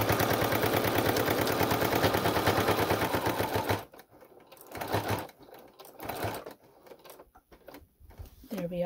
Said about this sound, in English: pivot and secure that top stitch down. That Velcro down with the top stitch.